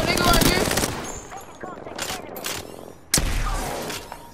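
Rapid gunfire in the video game Apex Legends, loud and close at the start, a brief lull with scattered shots, then another burst of automatic fire near the end, with people talking over it.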